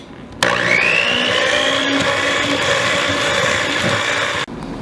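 An electric mixer beating Greek yogurt and vanilla into cake batter gives a loud, steady motor whir. It starts abruptly, holds for about four seconds and then cuts off, with no talking.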